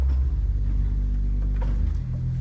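A pipe organ's 16-foot open wood stop sounds a deep, powerful bass tone, loud and sustained, with a shift in pitch about two seconds in.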